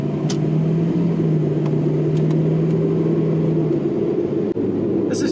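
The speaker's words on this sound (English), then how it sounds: "I'm gonna give a little bit of gas here." A Jeep Grand Cherokee ZJ with a V8 engine and 247,000 miles accelerating on a street, a loud steady low engine drone heard from inside the cabin, holding even for several seconds before a brief dip.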